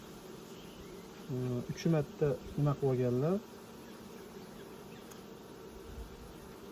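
Honey bees buzz close by around hive frames given new wax foundation, a loud droning burst of several pulses lasting about two seconds, then fading into a soft background hum while a person speaks.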